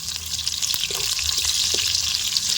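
Garlic fries in a pan with a steady, close crackling sizzle, broken by a few soft scrapes and knocks of stirring.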